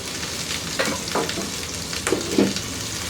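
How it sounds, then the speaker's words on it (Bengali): Chopped onion, grated ginger and whole cumin frying in oil in a kadai crackle and sizzle up close, with a few louder scraping bursts of stirring and no talk. "এর মধ্যে একটু পেঁয়াজ কুচি করে নিছি আর একটু আদা গ্রেট করে নিছি ও দুটা দিয়ে একটু ভেজে নিব"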